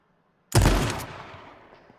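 A single loud shotgun blast in a first-person shooter game, sharp onset after silence with a decaying rumbling tail.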